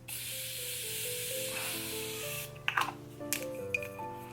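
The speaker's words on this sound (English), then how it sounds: "Let me spray my face," A Morphe continuous setting mist sprays onto a face in one long, close, steady hiss lasting about two and a half seconds over soft background music, followed by a few small handling clicks and taps.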